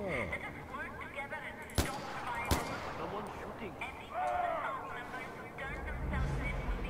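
Two sharp gunshots ring out, a short gap apart, in the shooter video game Far Cry 4, amid continuous game sound effects, with a person talking throughout.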